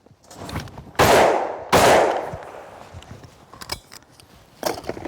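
Two loud close hunting shotgun blasts about a second apart, each with a sharp crack and long decaying echo, followed by fainter clicks and handling noises and a softer pop near the end.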